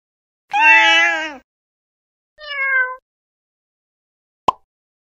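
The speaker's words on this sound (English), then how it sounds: "Let me take a bow and greet all of my friends with a little meow." A cartoon cat voice in a children's zoo animal flash card app meows twice, a long bright meow followed by a shorter, softer one, then a brief sharp click, with silence between.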